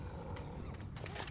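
The Tank zombie in the Left 4 Dead zombie shooter lets out a deep, rumbling roar, loud and close, over the low din of the game's background.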